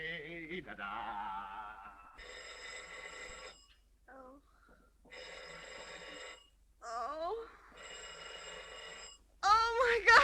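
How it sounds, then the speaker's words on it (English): An old telephone bell rings in repeated long bursts separated by short gaps, clear and fairly close, with a voice speaking between and after the rings. "make them stop ringing that phone"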